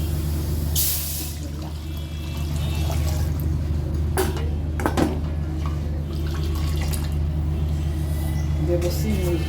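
Coconut milk, pressed from a whole coconut, is poured into a kadai as a steady liquid stream. A constant low hum runs underneath, with a few brief splashy bursts.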